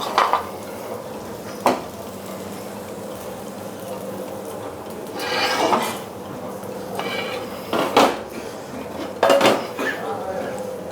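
A plate and cutlery clatter and clink intermittently as a steak is plated on a heated serving dish, with a voice talking and a faint sizzle underneath.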